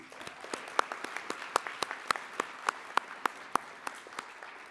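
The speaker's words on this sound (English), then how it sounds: "a round of applause for everyone." A small conference audience gives a brief round of applause, a sparse, distinct patter of individual claps at fairly even pace, fairly close and moderately quiet.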